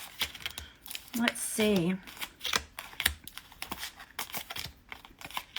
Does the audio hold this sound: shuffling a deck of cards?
yes